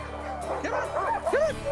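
Yukon Husky sled dogs in a kennel of about forty, a chorus of yips, whines and howl-like yelps rising and overlapping at close range with a steady low hum beneath.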